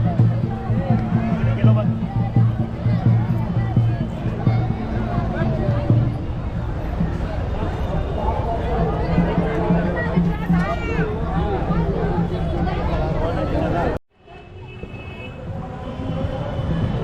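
Crowd of devotees thronging Ram Ghat on the Godavari in Nashik during Chhath Puja, a constant wash of overlapping chatter and murmuring voices that drops away abruptly near the end.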